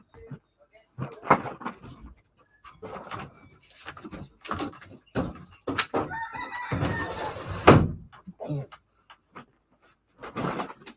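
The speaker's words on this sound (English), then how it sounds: "I live in a place where there's tons of roosters everywhere" Roosters crowing in the background of a residential outdoor setting, several drawn-out calls at moderate distance, mixed with a person talking and intermittent handling noises.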